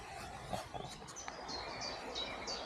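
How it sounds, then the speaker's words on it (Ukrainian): Forest birds singing near a lake, with repeated high thin chirps and whistled notes at moderate distance over a faint outdoor background, no talking. "Гарно співають пташечки лісові"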